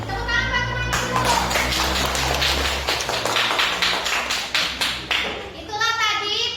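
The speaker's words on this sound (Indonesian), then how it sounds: "Tepuk tangan teman-temannya dulu." Children in a classroom clap for a classmate's presentation, a burst of quick, rhythmic hand claps that starts after a voice and fades into talk again at the end.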